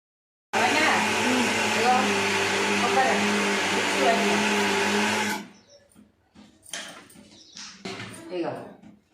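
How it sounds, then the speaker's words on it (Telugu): A kitchen mixer grinder grinds coconut for coconut laddoos with a loud, steady motor whir for about five seconds, then cuts off abruptly. Speech follows in the quieter remainder. "కొబ్బరి అంతా మిక్స్ పట్టిన ఇక ఎంత మంచిగా వచ్చింది."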